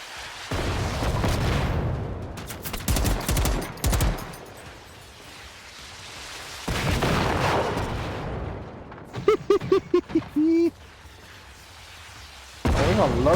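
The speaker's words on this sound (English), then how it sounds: "I love this mortar." Mortar fire in a video game: several heavy booming blasts in bursts, some fairly close together and others spaced apart, with quieter stretches between them and a bit of voice in places.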